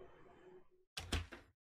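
A door shuts in the horror video game Dark Hotel, a single loud thud with a short rattle after a quiet stretch of faint ambience.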